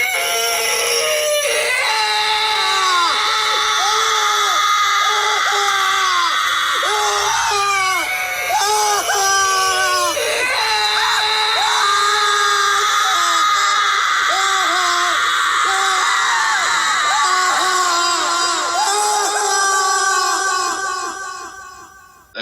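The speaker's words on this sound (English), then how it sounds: "It's utterly terrifying, isn't it? It's like a dry scream." A woman's dry, terrified scream from the 1989 film The Woman in Black, a long, harsh wailing cry that rises and breaks repeatedly over about twenty seconds, loud and sustained before fading out.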